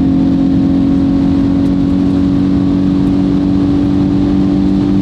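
Hyundai i20N with 204 hp straining near its top speed, a loud steady engine drone with a constant hum holding pitch, close and continuous, with no talking.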